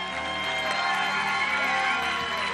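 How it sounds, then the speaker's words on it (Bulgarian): A crowd cheers and whoops over steady clapping, loud and continuous throughout the short burst. "Аплодисменти за сестрата на Ивайла, Божидара Бакалова"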